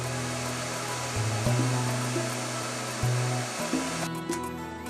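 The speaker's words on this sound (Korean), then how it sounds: "먼지를 흡입시킨 뒤 청소기의 배기구 앞에서 미세먼지 농도를 측정하는 방식이다." A vacuum cleaner runs continuously with a loud, steady whirring drone and slight pitch shifts while its exhaust is tested for fine dust.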